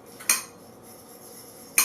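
A metal utensil clinks twice against a pan while a vegetable dish with salt and pepper is stirred; two sharp separate taps close by, with quiet between them.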